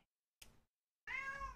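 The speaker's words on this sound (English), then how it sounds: "Oh, and my cat's coming to say hi." A pet cat lets out a clear, drawn-out meow close by, preceded by a brief soft chirp, with quiet pauses around it in a home gaming room.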